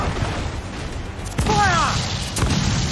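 Ship cannons in Assassin's Creed IV Black Flag fire a broadside: sharp booming blasts land around the middle and again near the end, over a steady noisy background, with shouted commands nearby.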